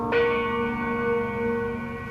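A single bell-tower bell in Andor, one strong strike that rings out in a long, steady, slowly fading hum, loud and alone.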